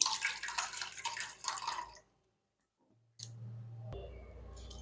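A glass of water is poured out for raw mango sherbet: a close, bright splashing and trickling for about two seconds, then quiet, followed by a low hum and faint clatter.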